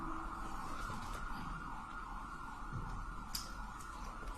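A siren wails steadily in the distance in Denver over a constant low traffic rumble, with no voices.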